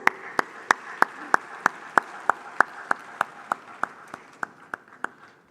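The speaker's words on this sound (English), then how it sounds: "Please, a round of applause." At the 2023 Afreximbank Annual Meetings, a run of sharp, evenly spaced claps beats in a steady rhythm and gradually softens, with no speech.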